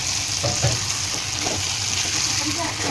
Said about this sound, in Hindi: देखिए कितना अच्छा कलर है, फ्राई कर रहा हूँ।